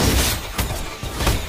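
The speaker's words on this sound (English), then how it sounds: "Your team has destroyed the turret." A turret being destroyed in the video game Jump Assemble: a loud crumbling, shattering crash with repeated bursts of breaking debris over a second and a half.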